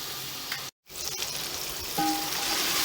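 Mutton ingredients and cauliflower fry in a pan for gobhi gosht curry, giving a steady, close sizzle with a brief break of silence and a faint metallic tone near the end.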